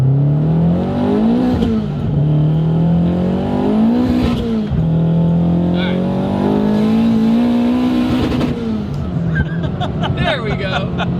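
A 560 hp big-turbo Scion FR-S (Toyota GT86) pulls hard in third gear, its engine note climbing steadily and loud inside the cabin, with a brief dip between surges and people talking over it.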